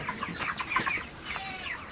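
Broiler chickens clucking softly in a group in cold weather, several short overlapping clucks and murmurs, fairly close with a quiet hum of background.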